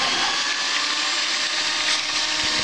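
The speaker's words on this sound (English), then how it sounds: "then I will start using the mixer" Electric hand mixer running continuously, blending paleo chocolate ingredients in a bowl, a steady loud whirring motor drone throughout with no talking.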